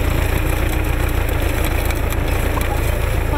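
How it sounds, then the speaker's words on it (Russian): Tractor harrowing forest soil during forestry aftercare work, a continuous rumbling engine drone with broadband mechanical noise, steady and fairly loud throughout, no clear speech. "Метр за метром трактор боронит почву"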